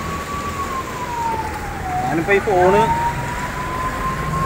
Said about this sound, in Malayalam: അവർ ആംബുലൻസ് വരുന്നുണ്ട്.